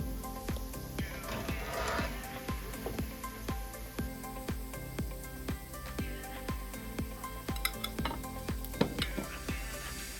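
Banana snack frying in hot oil, a steady sizzle under repeated rhythmic stirring taps of a utensil against the pan, close and continuous throughout.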